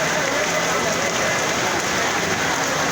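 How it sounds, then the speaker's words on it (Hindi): Heavy rain pours steadily onto surfaces at an early-morning fruit market on Rasala Road in Sargodha, a loud, dense and unbroken wash of sound with no pause. "अभी भी बारिश हो रही है, तेज़ बारिश है"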